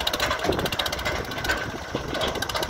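A New Holland 3630 tractor engine idles and chugs steadily nearby, a low rumbling with a rhythmic knock and no voices.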